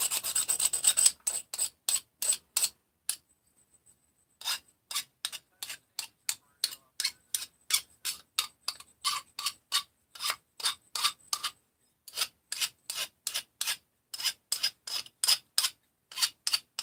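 A hand file deburring machined parts, rhythmic close rasping strokes repeated steadily with one short pause, dry and crisp with no talk.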